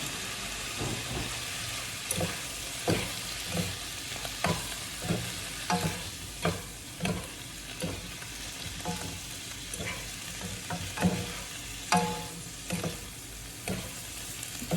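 Sea morning glory greens and shrimp stir-fried in oyster sauce in a hot pan, a continuous sizzle broken by repeated scraping and tossing strokes of the spatula at an uneven rhythm, close and moderately loud.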